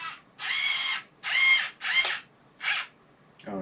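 A power drill fitted with a smaller bit runs in four separate bursts of roughly half a second each, with short quiet gaps between them. The drilling is close and steady and has no talk over it.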